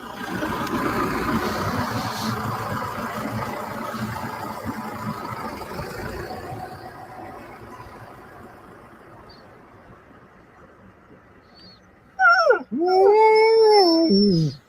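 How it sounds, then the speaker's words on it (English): Outdoors during a snowstorm, with a snow blower nearby, a dog lets out loud whimpering howls with rising and falling pitch near the end. Before that comes a long stretch of rumbling wind and machine noise that slowly fades. "Oh, poor little dog, yes."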